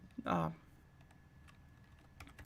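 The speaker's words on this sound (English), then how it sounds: "I'm gonna type there NLP" Soft, sparse keystrokes on a computer keyboard during a coding session, faint clicks scattered after a brief burst of speech at the start.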